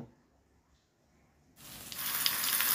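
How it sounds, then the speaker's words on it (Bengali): After a near-silent start, green chilli paste hits hot oil with a sudden loud sizzle that keeps building into a bright, steady hiss as it fries; no voices. "কাঁচা লঙ্কার পেস্টটা দিয়ে ভালো করে নেড়ে চেড়ে আমি কষিয়ে নেব।"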